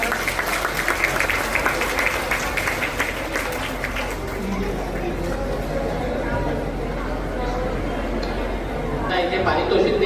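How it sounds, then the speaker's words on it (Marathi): Applause from a crowd at a Nagpur award ceremony for a clean Buddhist vihara competition, a continuous mass of clapping that stays steady and then thins slightly, mixed with crowd chatter and a speaking voice. "त्याकरिता आपण सर्वांनी त्यांच्यासाठी जोरदार टाळ्या"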